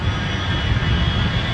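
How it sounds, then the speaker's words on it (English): A jet airliner, American Flight 1 Heavy from New York JFK, lands at Los Angeles with a steady, loud engine roar and broadband rumble that holds evenly throughout, no voices audible. "American Flight 1 is arriving in Los Angeles."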